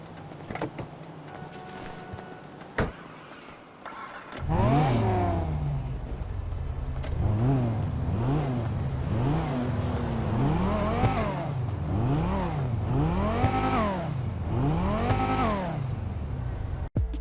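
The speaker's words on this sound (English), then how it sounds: "a tutorial of how to drift with the Banshee using double clutch" A Banshee sports car in GTA 5 Online, drifted using a double-clutch technique, its engine revving in repeated rising and falling sweeps, loud and continuous for over ten seconds after a short quieter lead-in.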